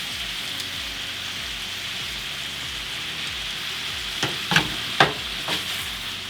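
Beef browning in a frying pan for slow-cooked beef bourguignon gives a steady, even sizzle, with a few sharp clinks and scrapes near the end.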